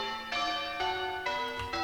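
A ring of four church bells rings in plain hunt order, with strikes arriving in a steady, regular rhythm and long overlapping tones that hang under each new stroke. The bells sound moderately near and clear, with no talking.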